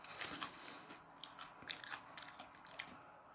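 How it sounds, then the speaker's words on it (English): Someone bites into and chews crunchy French bread, a run of sharp close crunches and crackles spread over a few seconds with no talking. "So crunchy, the French toast, not toast, but French bread."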